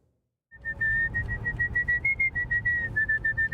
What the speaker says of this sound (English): For many people, there's nothing like a good whistle to pass the time.